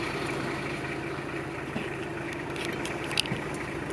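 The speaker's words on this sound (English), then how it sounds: "can go ahead and start it up. Glow plugs heat right up." A 1989 Toyota Hilux Surf turbo diesel idles steadily up close, a constant low engine drone with faint clicks and taps over it.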